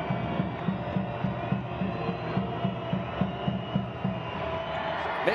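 A basketball arena crowd during a free throw in a Capitanes CDMX versus Oklahoma City Blue game: a fairly faint, steady murmur of many voices with light rhythmic thumping, no single voice standing out.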